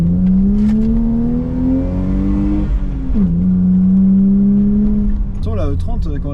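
A BMW E30 320i straight-six heard from inside the cabin with the windows closed: a steady, muffled engine drone that rises gradually, dips briefly and settles, with a voice near the end.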